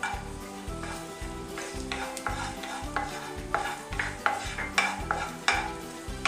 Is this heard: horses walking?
no